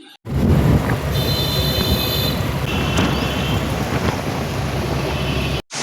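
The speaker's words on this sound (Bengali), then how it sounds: "কি জোরে বৃষ্টি এসছে" Heavy rain pours down steadily as a dense, loud broadband wash, with low rumbling beneath and faint high tones at times, running without a break and no one talking.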